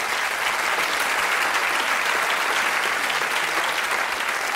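A comedy show audience applauds steadily, a thick, even wash of many hands clapping at once that holds at constant loudness from start to finish, with no voices standing out.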